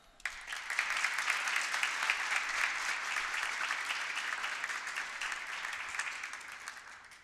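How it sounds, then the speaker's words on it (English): A crowd at a school class-of-2019 tree planting ceremony breaks into applause, the clapping swelling quickly and holding dense and steady for several seconds before thinning slightly near the end. "You deserve a round of applause."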